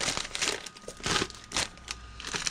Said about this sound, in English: It's got a little plastic bag